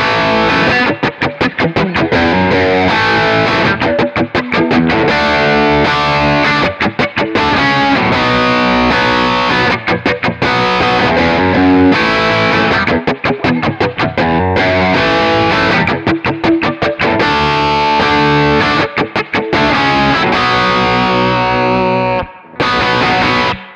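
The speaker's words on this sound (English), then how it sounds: "It's just simply the Park L4 and a little bit of reverb." An electric guitar played through a Kemper profile of a Park L4 amp with a touch of reverb rings out loud and continuous, with driven, full chords strummed in a steady rhythm for the intro and verse of a worship song.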